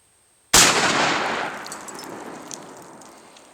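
A Taurus Judge revolver fires a single 45-70 round outdoors: one sharp, loud crack followed by a long fading echo tail lasting a few seconds, with no other sound.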